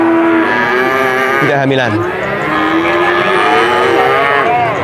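Cattle at the Purwantoro cattle market moo in loud, drawn-out calls that rise and fall over steady crowd noise, with brief talk mixed in.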